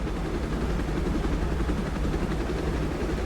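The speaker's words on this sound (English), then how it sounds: "Is that a helicopter?" Loud, close helicopter roar in the Mahoyo video game, a dense, continuous rotor rumble with a throbbing low end that holds steady throughout, heard alone without talk.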